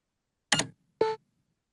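A screen reader toggles speech mode with two short electronic beeps about half a second apart: a brief broadband blip, then a cleaner tonal beep, close and clear against silence.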